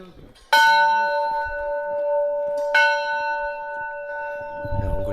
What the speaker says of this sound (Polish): a tu ludzie walą po prostu w dzwon